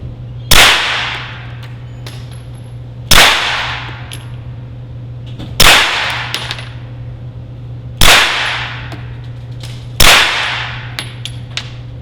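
Five sharp gunshots at a shooting range, spaced a couple of seconds apart, each a crisp crack with a short decaying tail over a low steady hum.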